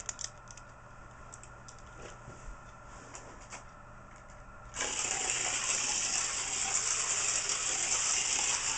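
A slot car runs on an AFX track, first with faint clicks and handling noises, then a sudden steady high whine from the small motor as it takes off, close and loud.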